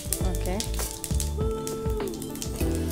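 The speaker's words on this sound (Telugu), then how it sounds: "మనకి ఆయిల్ హీట్ అయిపోయింది, కొద్దిగా ఆవాలు, కొద్దిగా జీలకర్ర, కొద్దిగా మినప్పప్పు" Mustard seeds, cumin and urad dal sizzle and pop in hot oil, a steady close crackle with scattered sharp pops beneath a talking voice.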